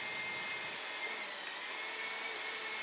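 A hydraulic torque wrench pump runs with a steady, dense whirring drone, holding at an even level throughout with no talking.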